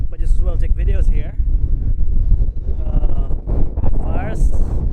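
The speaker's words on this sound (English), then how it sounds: "Look, it's so windy." Strong wind at the Bay of Fires buffets the microphone in a steady low roar, with people talking loudly over it throughout.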